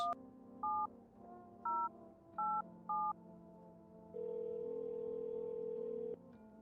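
In a PC video game, four short electronic keypad tones beep at an uneven pace as a phone number is dialed, followed by a steady ringing tone held for about two seconds, fairly quiet.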